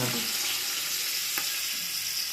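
Chopped onions frying in a pan, a steady, dense sizzle that runs unbroken throughout, with one brief stir or clink partway through and no voices.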